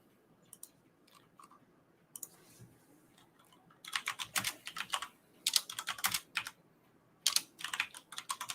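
Quick bursts of keystrokes on a computer keyboard as a perfume name is typed into a search, clattering in several short clusters separated by pauses, close and clear with no talking.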